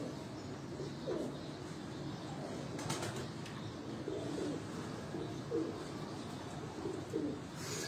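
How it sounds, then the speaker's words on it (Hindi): A golden-breed pigeon, light khaki at the throat, coos in several soft, repeated bursts spaced across a quiet loft, with occasional faint wing flutters and chirps in the background. "ये गोल्डन नस्ल का ये कबूतर है"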